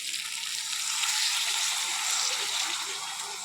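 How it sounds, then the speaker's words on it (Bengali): Broth poured into a pan of frying potol (pointed gourd) and potato simmered with yogurt for a Bengali prawn curry, making a steady, loud sizzling hiss that holds throughout with no talk. "এখন আমি এটাতে ঝোল দিয়ে দেবো।"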